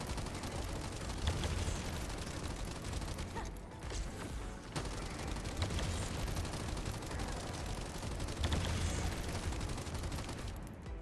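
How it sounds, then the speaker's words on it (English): Rapid gunfire from the Excava weapon in the shooter game The First Descendant, dense bursts of shots repeating in waves over a continuous layer of game effects. "So I'm aiming and I'm shooting"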